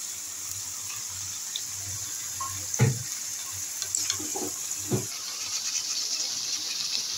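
Cumin paste mixed with water is poured into a simmering curry already seasoned with garam masala, giving a soft splash and sizzle with a few scraping stirs over steady kitchen hiss. No one speaks.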